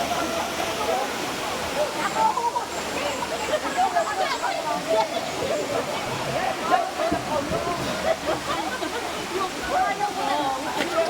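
Steady rushing roar of Daranak Falls, continuous and fairly loud, with splashing texture throughout.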